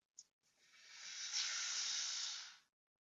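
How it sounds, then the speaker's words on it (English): A short click, then a steady hiss of air rushing out of the top release valve of a Vitamix vacuum blender for about two seconds before it stops abruptly. "I'm going to release the valve at the top."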